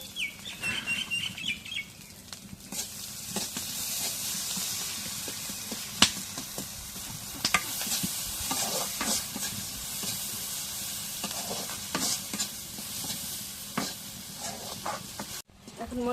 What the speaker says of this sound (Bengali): এখন মরিচ আর পেঁয়াজ ভাজা হয়ে গেছে